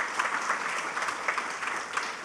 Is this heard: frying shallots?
no